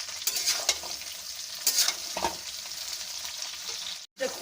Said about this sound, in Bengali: তেলে কুল দিলে কুল ফাটতে থাকে